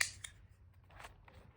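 A pair of scissors handled and slipped into a snug fabric drawer pouch with stationery, giving a sharp metallic snip-like click followed by softer scrapes and taps, close and quiet.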